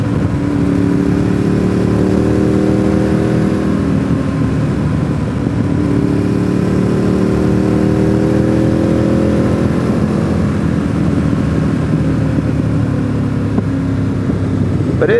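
A motorcycle riding toward Deals Gap on a nice day hums steadily close to the microphone with gentle rises in engine pitch as it accelerates, under a constant rush of wind.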